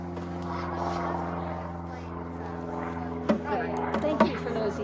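Steady low drone of an airplane passing overhead during a Christmas variety show, a broad hum holding throughout with people talking over it and a few brief knocks near the end.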